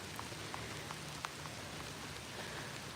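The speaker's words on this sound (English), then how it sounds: "thank you for hanging out with me in the nasty rain" Steady rain patters across a cemetery, an even wash of falling drops with a few sharper, louder drips landing nearby.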